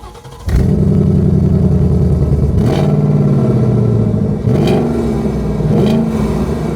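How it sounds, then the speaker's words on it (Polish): A Ford Mustang 5.0 V8, built at Flat Rock, Michigan, revs hard through its exhaust in a loud, close series of throttle blips, with four sharp surges rising over a deep, rumbling idle and no talk. "ponieważ mamy do czynienia z 5-litrową jednostką V8, szybki test wydechu"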